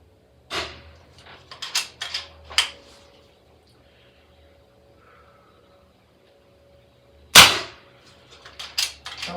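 A PCP air rifle firing pellets at a target, sharp isolated cracks with mechanical clicks of handling and cocking between them, one shot notably louder after a quiet pause.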